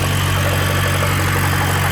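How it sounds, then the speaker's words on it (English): A 2006 BMW E90 325i with an N52 engine idles on a cold start, with a steady loud hum and a fine, rapid ticking from the lifters running through the short stretch. "So apparently lifter tick is actually quite normal to have on cold starts"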